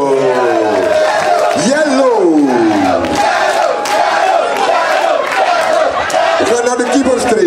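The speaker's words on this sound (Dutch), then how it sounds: "Maak een warm applaus voor een andere man uit onze technische staf" A large crowd roars and cheers loudly throughout a team player presentation, greeting a member of the technical staff with sustained whoops and shouted voices, continuous and close.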